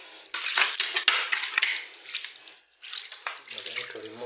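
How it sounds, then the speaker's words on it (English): Smelly water drains out of a washing machine, a close, uneven splashing gush with brief pauses and a faint voice near the end. "the water coming out is very smelly."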